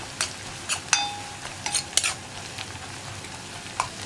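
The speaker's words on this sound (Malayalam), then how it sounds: "ഒരു 2 മിനിറ്റ് ഇളക്കി കൊടുത്തിട്ടുണ്ടെങ്കിൽ ഉള്ളി കുക്കായി വരും" Chopped onions stirred in a hot frying pan, with a quiet background sizzle under repeated sharp scrapes and clinks of the spoon against the pan at an uneven rhythm.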